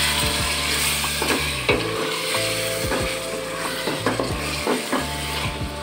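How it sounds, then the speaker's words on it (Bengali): Chicken meat sautéing in a pan for dum biryani, a loud continuous sizzle with repeated scraping strokes of a spatula against the pan, close up and without talk. "আপনারা দেখতে পাচ্ছেন আমি মাংসটা 5 মিনিট কষায় নিচ্ছি"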